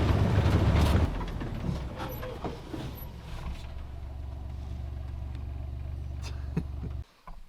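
A truck idles and rolls slowly toward a hunter outdoors on a cold day, its low steady engine rumble close by after a louder burst at the start, and the engine cuts briefly near the end.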